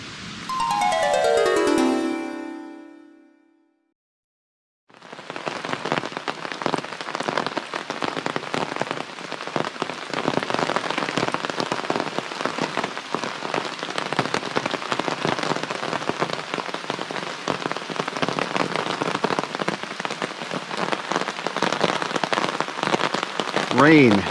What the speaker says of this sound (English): It's just never gonna not rain.